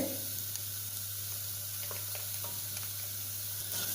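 Masala of spices frying in oil over a low gas flame for a field bean curry, a steady soft sizzle with faint scraping stir clicks, close and alone without talk.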